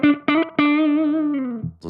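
Electric guitar played through a Mooer Prime P1 pedal on a jazz lead preset, three picked notes leading into a long sustained tone that slowly fades, clean and upfront with no talking.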